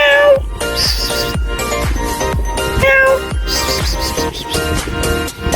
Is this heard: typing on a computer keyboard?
no